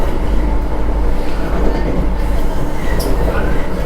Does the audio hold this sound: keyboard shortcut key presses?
no